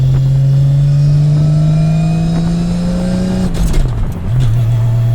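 A 750-horsepower straight-piped Nissan R32 Skyline GT-R with a sequential gearbox revs hard under acceleration, a loud climbing engine tone that holds high, then drops sharply on a shift and climbs again, recorded close from inside the car.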